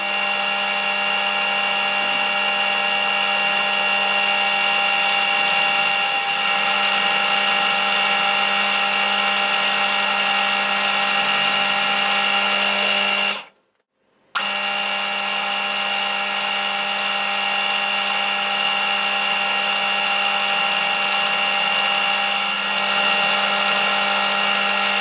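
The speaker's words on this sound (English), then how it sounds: "the next thing I need to do is drill a hole straight through." A drill bores a hole straight through a metal part for a hand nut, a steady tonal machine whine held for a long stretch with one brief stop midway, close and loud, no speech.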